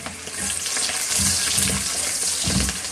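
Garlic sautés in hot oil in a pan with tofu and ground meat, a steady close frying sizzle throughout with a few louder spattering bursts and occasional stirring.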